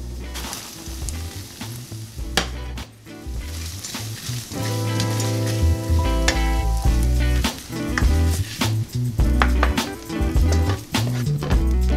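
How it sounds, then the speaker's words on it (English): Bacon sizzling in a pan deglazed with balsamic vinegar and ketchup, a loud continuous crackling sizzle with sharp pops and spatula clatters throughout, close up, with no talking. "And then we're going to go ahead and add the bacon."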